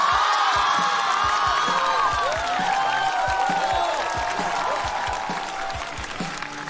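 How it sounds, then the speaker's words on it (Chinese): A live stand-up comedy audience bursts into sustained applause with cheers and whoops, a dense wash of clapping that stays loud throughout before easing slightly toward the end. "掌声有请"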